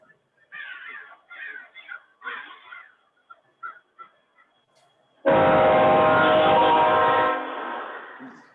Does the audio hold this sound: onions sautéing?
no